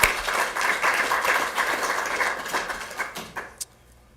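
Audience applause at a press conference at the California Capitol for students and faculty, a dense steady clapping that runs for several seconds, then thins out into a few scattered claps and fades to near quiet.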